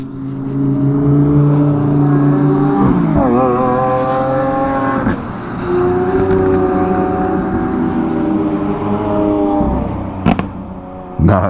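Lamborghini cars driving by, loud deep engine roars with pitch climbing as they accelerate, several overlapping passes close by, ending with a couple of sharp knocks.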